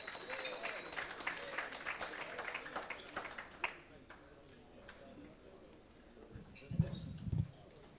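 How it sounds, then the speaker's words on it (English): Audience applause for auctioneer Mark Saunders at a national auction championship, a few seconds of crowd clapping that dies away into a quiet room, then a short close voice at the end. "Give Mark a round of applause"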